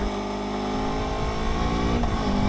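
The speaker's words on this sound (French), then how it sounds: "Quand on utilise l'e-boost, la moto en fait gagne un niveau d'accélération qui est totalement fou." A Kawasaki Ninja 7 Hybrid motorcycle accelerates hard and close using e-boost, a steady buzzing drone with its pitch climbing toward the end.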